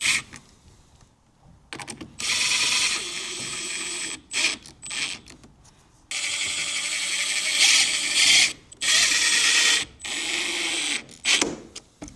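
Wood screws driven into a window frame with a power driver during a workshop door and window install, heard as repeated loud whirring bursts of several seconds each, separated by short pauses and faint clicks.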